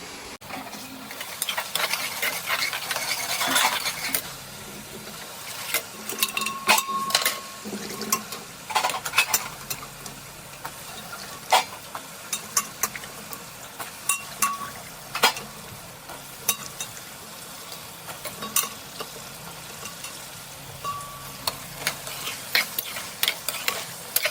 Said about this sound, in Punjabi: ਲਓ ਜੀ ਤੜਕਾ ਸਾਡਾ ਭੁੱਜ ਗਿਆ